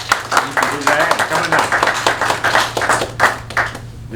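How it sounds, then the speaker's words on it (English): Audience clapping and applause at a live event, a steady patter of many hands running throughout, with voices heard over the claps. "Let's give him a big round of applause"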